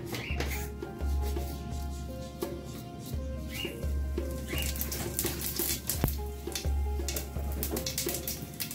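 Whole cumin seeds spit and crackle in hot oil in a very hot wok, a dense close sizzle with a low hum pulsing underneath.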